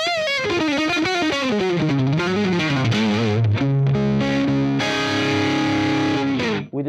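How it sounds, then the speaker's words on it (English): Electric guitar through a Peavey Classic 20 amp at 20 watts, a heavy, fuzz-like distortion on a played melodic phrase that slides and bends, then settles into sustained chords, loud and continuous with no talking. "the distortion is a little bit too much on the fuzzy side of the distortion spectrum."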